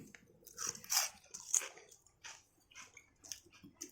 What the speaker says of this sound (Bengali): এই যে কুড়মুড় শব্দটা হলো, এতেই আমার মেয়ের ঘুম ভেঙে গেছে।